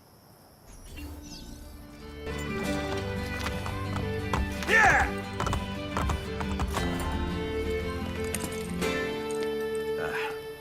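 Galloping horse hooves clopping and a whinny in the Assassin's Creed Brotherhood game, rhythmic hoofbeats under a musical score with a shout and spoken dialogue.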